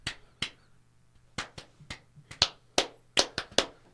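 Hands clapping during a podcast, about a dozen sharp, close claps in an uneven rhythm, some bunched quickly together, with a low steady hum beneath and no talk.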